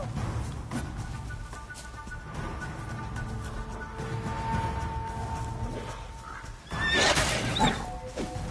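The horse Roach in The Witcher 3 lets out a loud whinny near the end, over steady game ambience with faint hoof clops and background music tones.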